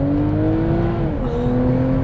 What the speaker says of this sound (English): You put your foot down on the accelerator,